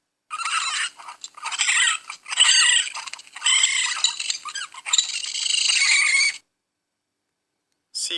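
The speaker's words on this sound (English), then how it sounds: "raccoon" A raccoon makes a run of harsh, squawking chitters in several bursts over about six seconds, loud and close, followed by silence and a brief final cry.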